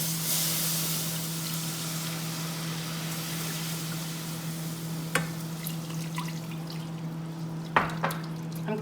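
Broth goes into a butter roux in a pan, giving a steady hiss and gentle bubbling with a couple of brief whisk clinks against the pan, close and continuous, without speech.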